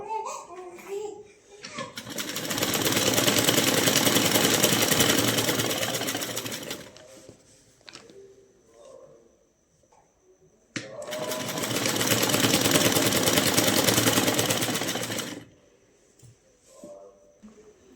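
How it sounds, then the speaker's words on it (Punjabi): A sewing machine stitching a Sikh patka head cover, running in two long steady whirring passes of several seconds each, with quiet pauses and some speech between them. "ਇਹ ਆਪਾਂ ਲਗਾਉਣ ਲੱਗੇ ਸਲਾਈ ਤੇ ਹੁਣ ਸਿੱਧੀ ਸਿੱਧੀ ਸਲਾਈ ਲਗਾਵਾਂਗੇ"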